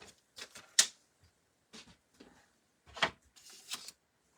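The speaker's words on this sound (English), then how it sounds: "Now I'm going to just bring in my trimmer really quick." A paper trimmer slices through cardstock in several short, quiet scraping strokes close by, with brief gaps between cuts and a sharp snap near the start.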